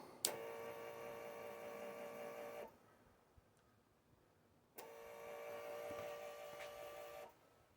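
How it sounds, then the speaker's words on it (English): An electric car fuel pump whirs as it is primed twice: two steady, tonal buzzes of roughly two and a half seconds each, separated by a short quiet pause, close and fairly faint. "prime the pump a couple times"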